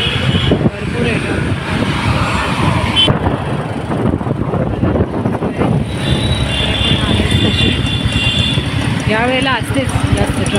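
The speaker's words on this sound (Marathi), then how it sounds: "यावेळेला असतेच जास्त ट्रॅफिक." Dense road traffic on a busy route between Kharegaon and Airoli, with engines droning and horns sounding close and loud, a steady uninterrupted wash of cars and motorcycles.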